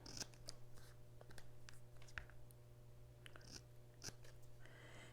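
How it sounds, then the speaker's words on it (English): Scissors snipping into the V-shaped notches of a sharp-angled paper design, a handful of quiet, brief crisp cuts spaced irregularly over a steady low hum, with no talking. "use my scissors to just cut the V's of this design"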